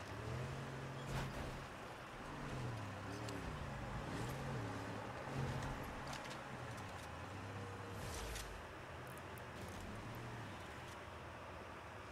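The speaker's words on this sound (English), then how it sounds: "Car coming." A car in a video game approaches with a low, steady engine drone that rises and falls in pitch as it revs, continuous and fairly faint, with no talking over it.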